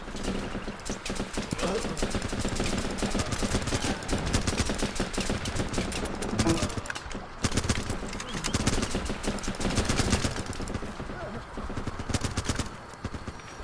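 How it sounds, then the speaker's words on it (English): Rapid bursts of video game gunfire crackle in dense volleys, steady and loud throughout. "You know, I hear gunshots."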